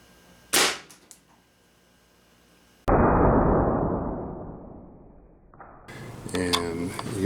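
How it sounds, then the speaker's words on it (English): Air rifle firing a .22 H&N Terminator pellet into a 10-pound clay block from 12 yards: one sharp crack, then later a long loud rushing burst that fades, with speech at the end. "now we're going to be shooting at a 10-pound block of clay from 12 yards"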